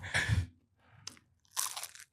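Loud, close crunching of crispy Vietnamese food, likely an egg roll, eaten without sauce: two bursts of crunchy chewing with a brief bite between, no talking.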